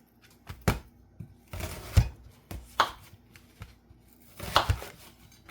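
A knife chops an onion on a cutting board for a Puerto Rican sofrito, giving sharp, close, irregular strikes in small bursts with short pauses between; no speech.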